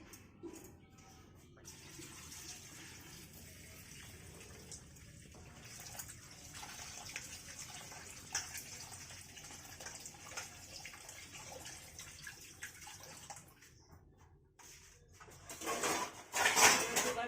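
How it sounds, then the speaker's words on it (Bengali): Broken rice (khud) being washed by hand in a pot of water for a village meal, faint sloshing and swishing with occasional clinks, growing louder and splashier near the end, no speech. "এই যে 500 খুদ ভালো করে ধুয়ে নিতে হবে।"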